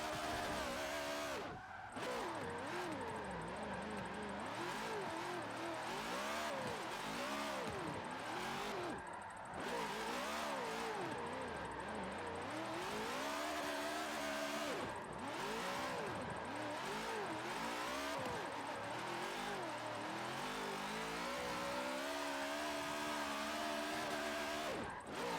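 A Buick Regal GNX drift build races in Forza Motorsport 7, its engine note constantly climbing and falling as it revs through gear changes and throttle lifts, loud and continuous with no talk.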